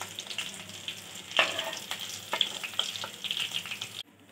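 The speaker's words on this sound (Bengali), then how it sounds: "আমার ভাজা হয়ে গেছে" Egg chops frying in hot oil, a continuous close sizzle with occasional sharp pops and crackles, ending abruptly in near silence.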